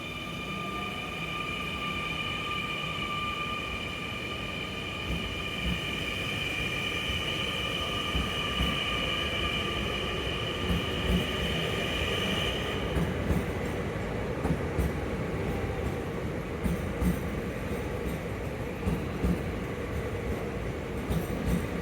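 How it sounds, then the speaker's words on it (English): An NS Intercity New Generation train arrives at Rotterdam Central with a steady rumble of rolling wheels and a high whining tone that stops partway through, leaving the rumble and some rattling. "here is our brand new NS Intercity New Generation"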